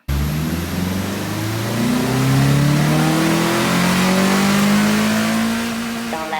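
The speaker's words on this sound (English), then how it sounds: "As a bonus, let's do a small dyno run." A Toyota MR2 ZZW30 engine revving hard on a dyno run, with one loud, continuous rising pull that climbs steadily in pitch for several seconds and then cuts off abruptly near the end.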